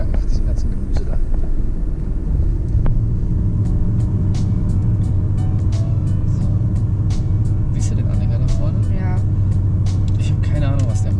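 A car engine revs up under light throttle and settles into second gear during a driving lesson, a steady low rumble heard from inside the cabin, with people talking throughout.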